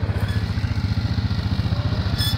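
A quad bike engine revving hard with a steady, fast chugging pulse, loud and close, running alone without speech.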